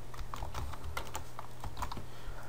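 Keystrokes on a computer keyboard as a Wi-Fi password is entered while setting up a TP-Link TL-WA701ND access point: steady, close-up clicking taps over a low constant hum.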